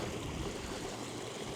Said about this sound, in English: Little natural waterfalls are forming.